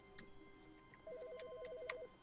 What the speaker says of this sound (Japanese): 電話なんて鳴ってたっけ